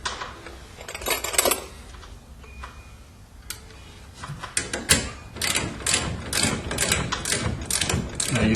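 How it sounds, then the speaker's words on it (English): Set screws being tightened on a garage door torsion spring bar give off a run of close metallic clicks and ratcheting ticks, sparse at first and then dense and steady, with no talk over them. "we're going to carefully tighten the set screws"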